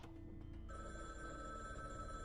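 A telephone bell rings steadily and faintly in a quiet room, its electronic ringing tone continuous throughout with no one speaking.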